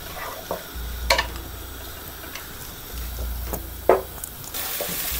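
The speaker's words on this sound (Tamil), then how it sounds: "ஆயில் சூடாகிடுச்சு. ஆனியன் போட்டுடலாம்." Onions fry in about 50 ml of hot oil for a kids' fried rice, with a steady sizzle and sputter, a few sharp spatula scrapes and knocks against the pan, and the frying growing louder at the end.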